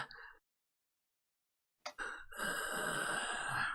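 A voice imitates heavy, ragged breathing: a short exhale, a pause of silence, then a sharp intake followed by a long, rough, breathy rasp, close and loud.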